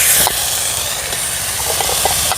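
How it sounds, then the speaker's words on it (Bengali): Chopped, washed vegetables go into a frying onion-tomato masala in a Bengali home kitchen, making a loud, close, continuous sizzling hiss with a few light clatters and no talking. "এবার দিয়ে দেবো এই যে কেটে ধুয়ে রাখা সবজিটা"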